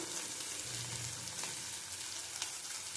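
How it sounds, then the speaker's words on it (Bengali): Spices for a rohu fish curry sautéing in a pan with salt, a faint, steady sizzle with light stirring scrapes, heard close and alone. "ভালো করে কষিয়ে নেবো। দেখো দেবো নুন, পরিমাণ মতো নুন দিলাম।"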